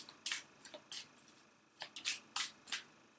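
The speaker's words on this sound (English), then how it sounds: "I just shuffle until I feel that's enough." Tarot cards being shuffled close by: several sharp, papery riffles and flicks in irregular bursts, separated by brief quiet gaps, with no voices.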